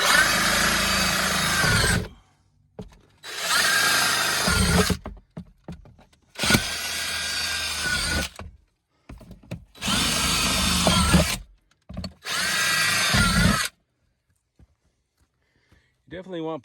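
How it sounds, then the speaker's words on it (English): A power drill bores drainage holes in plastic totes for growing potatoes, running in five loud bursts of about two seconds each with short pauses between them. "We'll give us some drainage holes."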